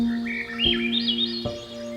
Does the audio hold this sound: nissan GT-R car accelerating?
no